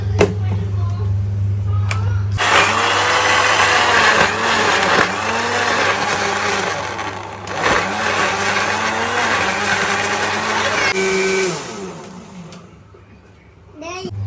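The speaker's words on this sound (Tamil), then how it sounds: "இப்போ மிக்சியில போட்டு நல்லா அரைச்சிட போறோம்" Kitchen mixer grinder blending banana and curd into a shake, a loud steady whirring roar running about nine seconds before cutting off and winding down, with a child and an adult talking around it.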